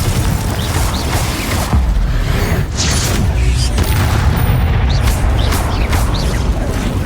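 Glacius and Confringo spells cast in combat in Hogwarts Legacy, a loud, dense wash of magical blasts, booms and crackling bursts running continuously with repeated impacts.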